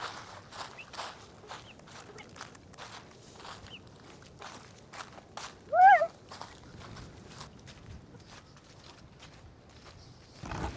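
A white cat gives one short, clear meow near the middle, heard close against light repeated tapping and footstep-like knocks. A brief thump follows near the end.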